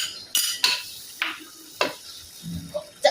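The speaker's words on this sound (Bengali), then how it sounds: "সামান্য আদা রসুন জিরা দিলাম" Ginger, garlic and cumin sizzle in a pan for a pulao, with sharp scraping and clinking strokes of a spoon stirring at a steady rhythm, close up, without any talking.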